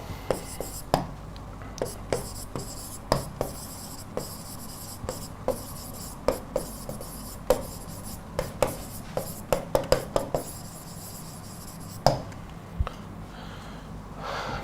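Pen or chalk writing out a sentence during an English grammar class, with a series of sharp taps and scratches in an uneven rhythm, close and fairly loud, with faint breathing between strokes.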